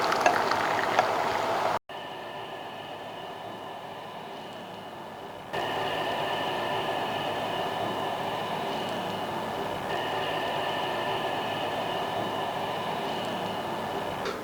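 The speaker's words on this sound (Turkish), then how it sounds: "sırada suyumuz var. Kaynar su kullanıyoruz." Steady rushing, bubbling water noise continues for several seconds with a brief cut near the start, as boiling water pours into a pot while making maqluba.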